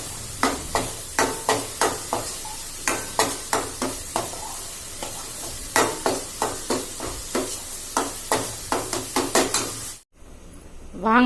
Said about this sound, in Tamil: இப்போ இது பச்சை வாசனை போகிற வரைக்கும் நம்ம வதக்கிக்கலாம்.